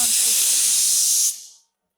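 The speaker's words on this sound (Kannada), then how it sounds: "ಇವಾಗ ಕುಕ್ಕರ್ 2 ಸತಿ ಕೂಗಿದೆ, ಆಫ್ ಮಾಡ್ಬಿಡೋಣ ಅಲ್ವಾ?" A kitchen pressure cooker lets off a loud, close jet of hissing steam from its whistle, holding steady for over a second before tapering away into silence.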